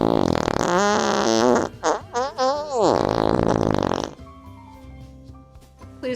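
A long, loud, buzzy fart sound stretches and wobbles for about four seconds with brief breaks, then fades into a quieter, low rumbling tail.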